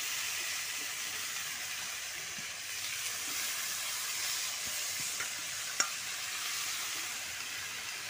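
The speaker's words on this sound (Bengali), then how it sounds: "এবার পালং শাকটা দিয়ে দিচ্ছি।" Spinach leaves being stirred into a frying spice mix in a pan, giving a steady, fairly quiet hissing sizzle that runs unbroken throughout, with one brief faint clink and no talking.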